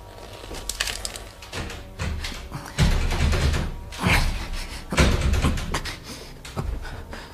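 In a radio drama, a locked door is tried again and again, with a handle rattling and the door thumping and knocking in rough bursts, close and fairly loud, and no talk over it.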